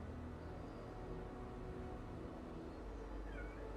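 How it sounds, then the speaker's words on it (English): Pet cat Pippin, frightened, gives a faint meow over a steady low background hum. "Guys, I don't know if you saw the cat run across here."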